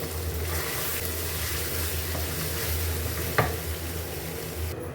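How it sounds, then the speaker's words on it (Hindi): Potatoes and chicken fry and sizzle in a pan with occasional stirring, a steady close hiss throughout and one brief clink near the end. "आलू और चिकन को हम अच्छे से कुक होने देते हैं"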